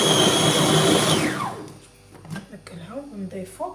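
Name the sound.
blender mixing dates, orange and strawberries into juice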